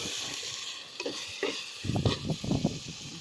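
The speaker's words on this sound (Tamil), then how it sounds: "எந்த அளவுக்கு வதக்குறோமோ அந்த அளவுக்கு டேஸ்ட்டு நல்லாயிருக்கும்." Onion paste, tomato and masala powders stirred in hot oil, a constant close sizzle with soft scraping strokes of the spoon growing busier toward the end.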